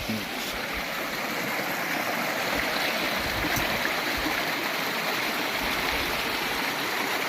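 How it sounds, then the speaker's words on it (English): River water rushes past in a steady, unbroken roar close by, with no pauses. "if this river is flowing this way"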